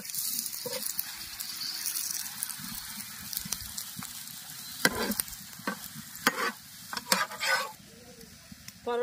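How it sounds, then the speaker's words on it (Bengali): A rolled-out paratha sizzles and fries on a hot tawa, with a steady crackling hiss throughout and a few louder bursts of spatter and scraping toward the end. "পরোটা তাওয়ার মধ্যে দিয়ে দেব।"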